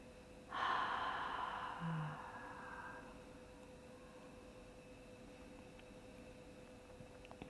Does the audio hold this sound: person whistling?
no